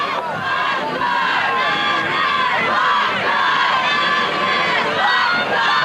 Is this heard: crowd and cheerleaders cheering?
yes